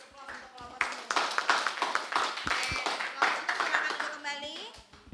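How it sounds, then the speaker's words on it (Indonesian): A classroom of students claps for a group that has just presented, with scattered, uneven hand claps building into a lively round close by, while children's voices chatter and call out over it. "kita kasih aplaus untuk kelompok"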